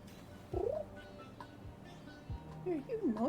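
A cat meows several times in short rising and falling calls with soft purring between them, close and quiet indoors, while a person talks nearby.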